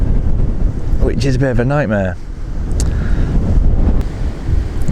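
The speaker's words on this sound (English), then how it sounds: "God, that wind is proper gusting." Strong wind gusts beside a canal, buffeting the microphone with a constant low roar that rises and falls while someone talks over it.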